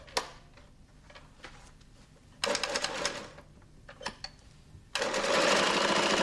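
Flexorand Speedbinder sewing machine stitching Perlon velour tape onto carpet at a mitre corner, running in short mechanical bursts of rapid rattling stitches separated by quieter pauses, ending in a longer sustained run.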